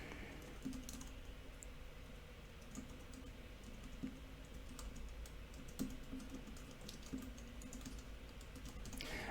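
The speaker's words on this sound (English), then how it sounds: "I'm going to type myself." Someone types continuously on a computer keyboard, with light, rapid key clicks keeping an even pace. No one speaks.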